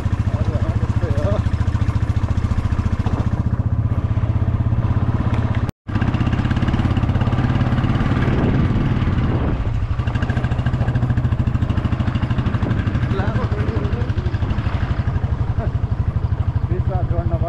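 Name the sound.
motorcycle engine running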